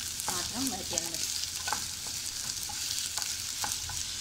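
Ingredients for chilli chicken sautéing in a pan, a quiet continuous sizzle broken by several spatula scrapes and taps, heard alone without talk.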